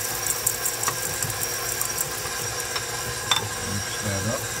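A stand mixer on low speed stirs edible cookie dough as chocolate chips go in, giving a steady mechanical whir with faint ratcheting clicks and a few soft knocks throughout.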